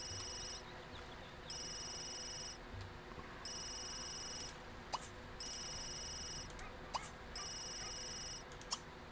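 A smartphone rings in The Sims 3 game, repeated electronic ring bursts separated by short pauses, fairly faint, with sparse clicks between rings.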